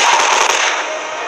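A short, loud burst of rapid gunfire in a D-Day Omaha Beach war video game, crackling briefly and then fading into a noisy rush.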